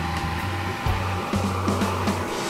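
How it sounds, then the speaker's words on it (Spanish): Pool heater running, a steady blowing whir with a constant tonal hum, close and unbroken, with slight shifts in pitch. "Ah, no, este es el calentador de la piscina."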